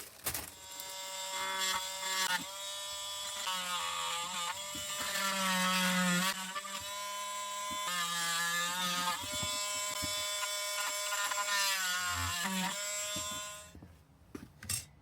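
A high-pitched power tool whines steadily while smoothing a stainless steel mesh screen for a modified stock air intake on a Yamaha V Star 1300 motorcycle, with pitch shifting under load before it cuts off near the end.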